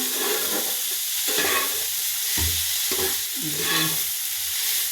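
Grated boiled potatoes fry in a pan with a dense, close sizzle broken by repeated scraping stirs of a spatula, loud and continuous with no talking.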